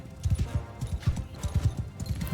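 Fast, rhythmic hoofbeats of a galloping horse from the Mount & Blade II Bannerlord game, close and prominent, with a faint whinny over background battle ambience.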